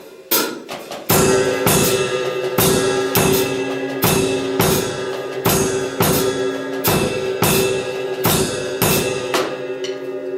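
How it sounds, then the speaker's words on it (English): A drum kit plays steady eighth-note cymbal strokes with bass drum accents, a loud, even run of bright crashing hits over a low thump and no voices. "if I play the accent of the bass drum with the cymbal"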